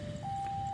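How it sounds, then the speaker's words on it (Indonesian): Automatic railway level crossing siren sounding as a steady, unbroken electronic tone over a low background rumble, close and fairly loud throughout. "Sirenenya sudah berbunyi, ini tanda akan ada kereta"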